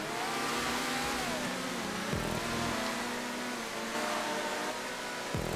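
A Wagner race car engine in GTA 5 racing drones continuously, with rising and falling revs and sharp downshift drops around gear changes, loud and close with no talk.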